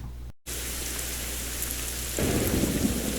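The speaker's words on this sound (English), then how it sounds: "it actually started to rain and storm" Rain and thunderstorm in the video game Sons of the Forest: steady rainfall hisses on surfaces after a brief cut to silence, then a deep rolling thunder rumble swells in the last second.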